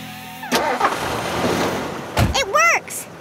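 A cartoon car's engine catches after the key is turned, with a short burst of cranking, then rumbling revs. Animated voices talk before and after the engine sound.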